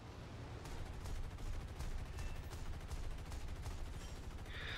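In the War Thunder video game, the P-63 Kingcobra's .50 caliber machine guns fire steady rapid bursts over a constant engine drone, fairly quiet in the mix, with sharp repeated cracks throughout.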